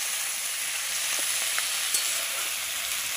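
Potatoes frying in a pan for a village-style fish curry, a steady close sizzle running unbroken throughout with faint crackles and no talking.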